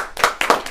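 An audience at a speech contest meeting gives a brief scatter of hand claps, three or four sharp claps within under a second, with no talk.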